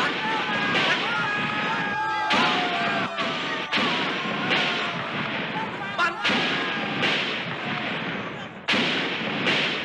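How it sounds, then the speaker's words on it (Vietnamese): Signal cannon shots fired in succession to mark the start of nationwide resistance on 19 December 1946, heard as repeated sharp booms at irregular intervals over a dense, loud background. "Sáu phát pháo lệnh liên tiếp bắn đi."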